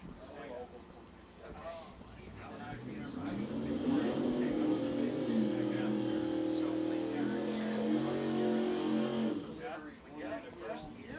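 Nitrous-assisted big block Chevrolet street cars rumble with a deep, steady engine drone that swells and holds through the middle, while a voice talks over the engines throughout.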